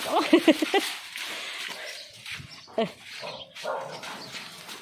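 A dog barks at an elephant that is out for its vaccination trip: a quick cluster of sharp barks comes first, then quieter yips and rustling in a busy outdoor setting, with some human voices faintly mixed in.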